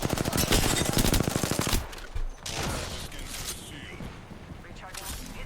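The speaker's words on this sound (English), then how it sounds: "Getting shot at." A loud, fast burst of automatic gunfire in Apex Legends rattles for nearly two seconds, then gives way to quieter game sounds with talking over them.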